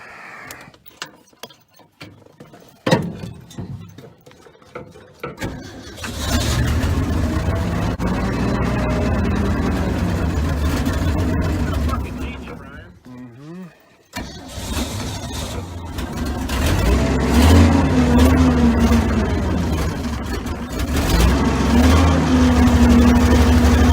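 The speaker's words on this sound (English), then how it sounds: "this is the first fire in 5 years that this motor's done" An old DewEze Hay Monster's motor cranks with a few sputters, then fires and settles into a loud, steady running rumble that briefly drops out before picking back up and revving higher.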